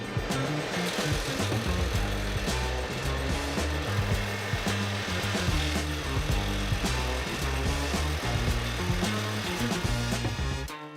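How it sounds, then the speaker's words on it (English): Cherry burl wood is rough cut and sanded for epoxy rings, making a continuous loud, close grinding and rasping with a steady rhythmic pulse throughout and no talking. "I made a rough cut and then sanded the wood down to match where I marked it off."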